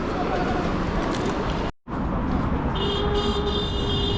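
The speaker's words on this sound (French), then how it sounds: "tout le monde klaxonne ici" Car horns toot in busy street traffic in Kazakhstan over a loud, steady road roar, with a brief cut partway through and a higher sustained honk near the end, while people talk.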